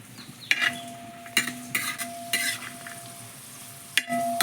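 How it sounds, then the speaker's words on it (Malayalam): Cashews and raisins frying in hot oil for semiya payasam, a Kerala sweet, produce a steady sizzle. About five sharp spoon scrapes and clinks against the pan break through it, close by, with no talking. "നമ്മുടെ കശുവണ്ടി വായി വരുന്നുണ്ട് അതോടൊപ്പം തന്നെ നമുക്ക് നമ്മുടെ മുന്തിരിയും കൂടി അങ്ങോട്ട് ഇട്ട് കൊടുക്കാം"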